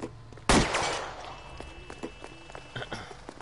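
A single loud gunshot in LA Noire cracks out close by and decays, followed by lighter scattered footsteps and small knocks amid quiet game ambience.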